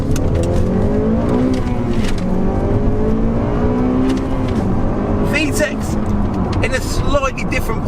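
A Honda Civic Type R FN2, a Cat N car, accelerates hard with the engine revving and climbing steadily in pitch, heard loud from inside the cabin with a voice talking over it.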